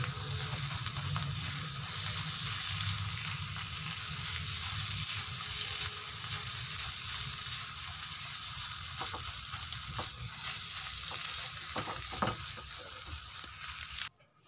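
A sesame flower-stalk curry stir-frying in a pan with sugar, a constant sizzle and hiss with scattered scraping and knocking of a spatula in the second half, cutting off abruptly at the end.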